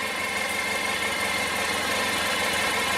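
A 1994 Honda ST1100 Pan European motorcycle engine idles steadily at its first start of the season, a continuous close, even rumble with no talk over it.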